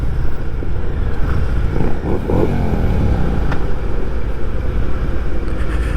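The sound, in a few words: Harley Davidson Heritage Classic 114 motorcycle engine while riding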